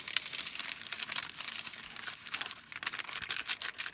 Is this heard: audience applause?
no